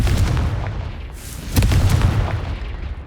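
Confringo explosive spell blast in Hogwarts Legacy, cast during combat: a pair of loud, close booming bursts over a rumbling battle din, with no talk.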